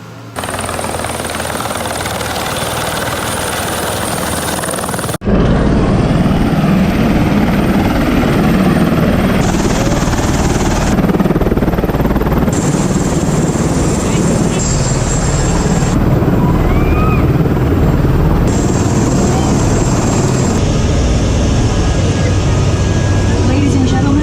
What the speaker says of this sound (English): This time we're on a helicopter.